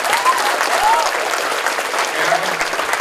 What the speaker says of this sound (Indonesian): Tepuk tangan buat SMP 2.